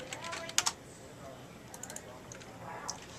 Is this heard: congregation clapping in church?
no